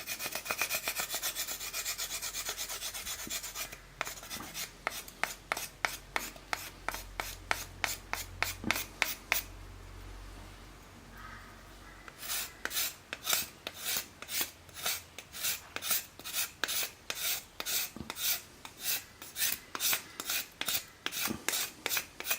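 Bark is scraped off steamed privet wood dowels by hand in quick rhythmic strokes, a dry rasping scrub repeated dozens of times, close and fairly quiet with a brief pause midway.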